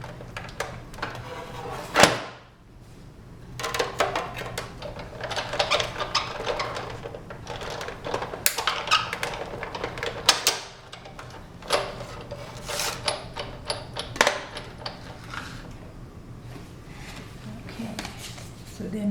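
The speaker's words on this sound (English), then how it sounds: "use the 2-inch die, center it on your sunflower, bring it into my big shot, and just cut it out" A Big Shot die-cutting machine runs a paper sunflower through a 2-inch die, making soft mechanical cranking and scraping with a few sharp clunks, close and quiet, with faint talk at times.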